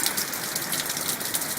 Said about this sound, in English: And it's been raining ever since.